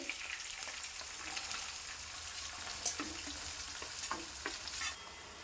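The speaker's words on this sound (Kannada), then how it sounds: "ಈಗ ಮೆಣಸಿನ್ಕಾಯಿ ಕರ್ದಾವ್ರಿ, ಉಳ್ಳಾಗಡ್ಡಿ ಹಾಕೋರಿ." Green chillies and onions fry in hot oil with mustard seeds and curry leaves for hotel-style North Karnataka upma, a faint, steady sizzle broken by scraping stirs of a spoon against the pan.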